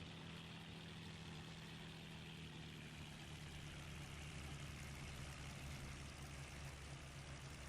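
A single-engine aircraft idles as it taxis toward an airfield AAA site in IL-2 1946, a steady low droning engine hum, even and continuous, quiet and without voices.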